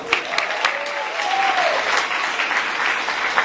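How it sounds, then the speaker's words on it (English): An audience claps steadily, a close and fairly loud burst of many hands that carries on evenly from start to finish, with a voice briefly heard over it near the beginning. "Give him an applause"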